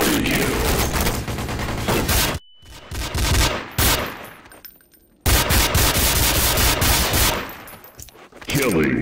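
Video game gunfire with dense, loud bursts of automatic weapons fire, a sudden near-silent break, then more sustained shooting resuming; no one talks.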